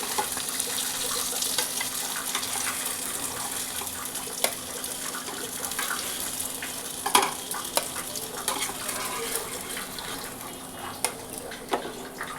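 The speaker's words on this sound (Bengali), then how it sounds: "আগে এগুলোকে ভালো করে ভেজে নিই বন্ধুরা" Potato tikki fry in oil with a dense, steady crackling sizzle throughout. Occasional sharper clicks and knocks from a utensil stand out, close up and without speech.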